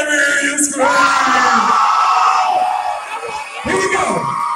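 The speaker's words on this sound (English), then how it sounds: "let me hear you scream." A live contest crowd yells, whoops and cheers loudly, a dense mass of shouting voices that stays strong for a few seconds, dips briefly, then surges again near the end.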